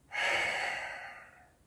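A single long exhale during a posture exercise, a breathy airy rush that starts abruptly and fades over about a second and a half, close and alone.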